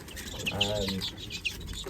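Young greenfinches in a finch aviary give scattered high chirps and tweets at moderate distance, mixed with some low cooing-like tones.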